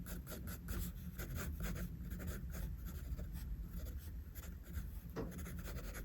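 A pencil sketching lines on paper, making close, quiet scratchy strokes in quick repeated bursts with short pauses between them.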